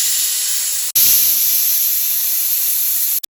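A pressure cooker holding sweet corn in salted water lets out a loud, steady steam hiss that runs for about three seconds after a brief gap, then cuts off abruptly.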